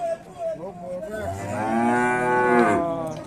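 Cattle at a busy cow market give one long, close, drawn-out moo that rises and then falls, with quiet market noise around it.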